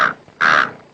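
A nearby crow in a movie scene gives two loud, harsh caws: a short one, then after a brief gap a longer, stronger call that fades out.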